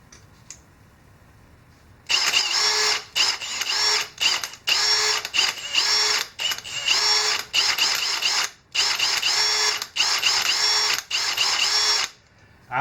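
A Milwaukee 18-volt cordless hammer drill whirs loudly in repeated bursts, each a few seconds long with short pauses between, close up and steady.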